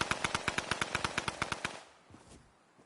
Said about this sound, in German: Wer schießt denn noch?